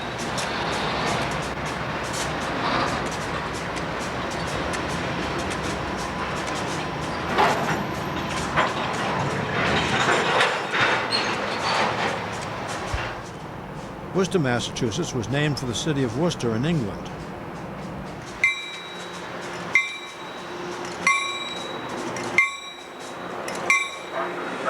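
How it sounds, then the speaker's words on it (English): A train on the Boston & Albany line rolls into Worcester with a low rumble, squealing metal and rhythmic clanks, then repeated ringing bell tones near the end, while a narrator speaks throughout. "This train moves into town and waits for clearance before continuing west."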